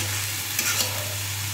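A vegetable fries in a pan in a home kitchen with an even, soft, continuous sizzle over a low steady hum, with a couple of faint brief crackles midway.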